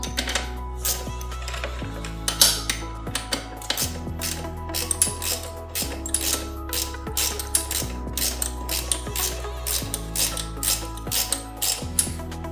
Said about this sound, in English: Definitely comes handy if you have socket sets like this, wrench, and just easier to tighten the nuts and bolts.